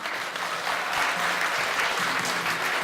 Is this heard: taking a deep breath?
no